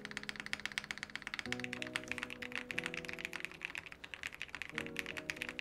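Typing on a capsule mechanical keyboard with polyfill foam under the spacebar: a quick, steady stream of close key clacks and thocks, heard alone against a faint tonal hum in the background.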